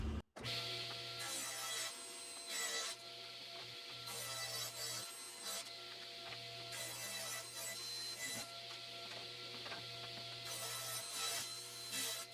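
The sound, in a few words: chop saw cutting 2-inch wooden seat slats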